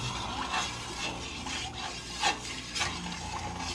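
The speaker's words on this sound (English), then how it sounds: "Then just mix it." Watermelon juice is stirred in a container, giving soft, steady swirling and scraping with a few brighter clinks of the utensil against the side, close and continuous with no talk.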